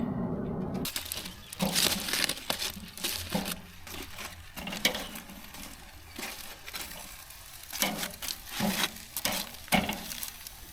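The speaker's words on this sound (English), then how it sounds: "I'm gonna go silent so you guys can listen to the sizzle" Close, steady sizzling of asparagus frying in a pan, with intermittent crackles and scraping stirs rising and falling over a continuous hiss.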